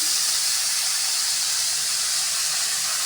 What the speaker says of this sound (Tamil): வெங்காயம் எல்லாத்தையும் சேர்த்துக்கலாம் மொதல் இதை நல்லா வதக்கிக்கலாம்